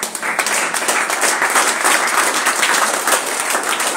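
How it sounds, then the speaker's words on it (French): A church congregation applauding during a sermon: dense, steady clapping from many hands, loud and close, with no speech over it. "Acclame pour toi-même."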